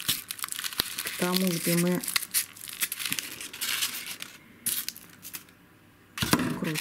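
Scissors snip and crinkle crepe paper while trimming the stems of paper roses, giving close crackling and crumpling bursts, with someone talking in between.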